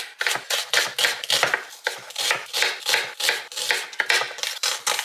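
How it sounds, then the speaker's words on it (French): A knife chops peeled onions on a cutting board in quick, steady strokes, each crisp near chop repeating in a regular rhythm with short pauses, no voices. "Donc je commence tout d'abord, comme d'habitude, par éplucher et émincer mes oignons."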